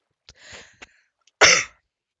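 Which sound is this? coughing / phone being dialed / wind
coughing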